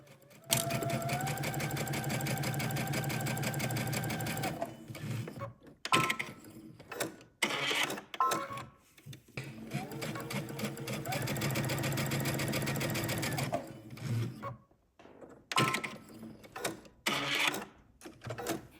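A home sewing machine bastes a pocket onto the side seam of a loungewear pant, running in steady whirring bursts with pauses between, close by, while a person talks over it.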